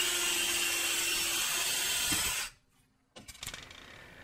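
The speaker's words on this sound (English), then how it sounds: "And I'll drill the second hole." An oversized spoke part is drilled with a second hole, a steady loud whirring grind that stops abruptly midway, followed by a short pause and a few faint mechanical clicks and knocks.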